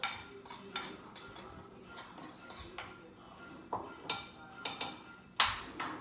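Six spices stirred together in a bowl for shrimp fajitas, a spoon clinking and scraping against the bowl in repeated light taps and clatters, close and fairly quiet.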